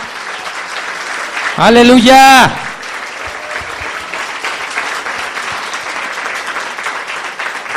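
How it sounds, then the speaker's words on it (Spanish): Church congregation applauding during a sermon on the Feast of First Fruits, sustained crowd clapping throughout, with a loud shouted voice cutting through early on. "Si le vas a aplaudir, dáselo como Él se lo merece."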